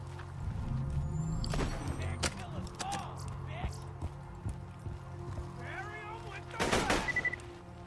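Gunfire from Borderlands 2 bursts out in scattered sharp shots and a short volley near the end, against game background sound, with someone talking between the shots.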